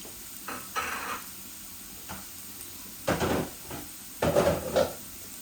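Grated onion hits a hot frying pan with browned garlic in a home kitchen, producing short bursts of sizzling and the clatter of stirring, loud and close, separated by quieter gaps.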